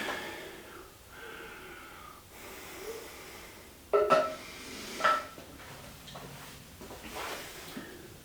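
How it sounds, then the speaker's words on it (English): Heavy, audible breaths during a kettlebell and bodyweight strength workout rise and fall close to the microphone, with a couple of sharper gasps or snorts in the middle and no talking. "I'm breathing pretty heavily, so it's highly likely that you'll have to listen to me breathe"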